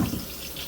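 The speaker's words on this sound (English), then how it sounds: "I'm going to fill this 5-gallon bucket halfway with hot" Hot tap water rushes steadily into a 5-gallon bucket, giving a brief, continuous hiss of filling water close by.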